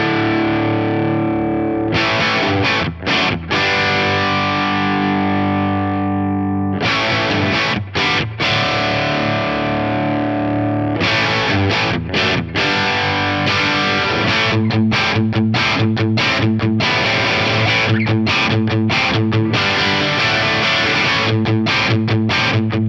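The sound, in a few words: Strat guitar through JMP1 preamp in OD1 mode with bass shift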